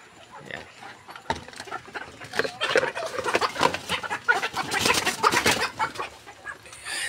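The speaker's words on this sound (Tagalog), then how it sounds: "Ito yung mga alaga nating manok o." Backyard farm chickens clucking and calling in a busy, overlapping chorus that builds over several seconds, close by, with no talk.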